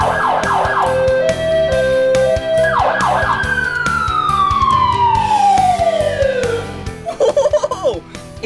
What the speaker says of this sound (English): Check this out down here. The siren. Listen.